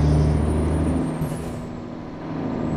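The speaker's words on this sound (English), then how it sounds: "Come on, old Mack, with your 315 horsepower." An old Mack truck with a 315-horsepower engine, running near and loud with a steady low engine drone, a faint high whine partway through, and no talking.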